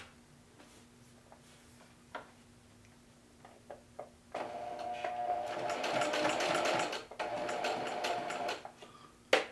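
A sewing machine stitches a narrow zigzag bar tack on a pocket: a few short, quiet bursts of stitching, then a loud rapid run of needle clatter lasting several seconds, with small pauses and clicks near the end.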